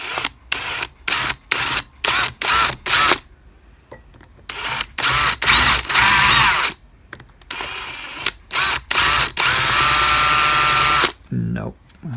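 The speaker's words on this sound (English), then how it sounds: "I've just been drilling away" Drill press boring out a broken piece during a quill guide upgrade, loud bursts of whirring and grinding that start and stop repeatedly in short runs, with a longer sustained drilling stretch near the end.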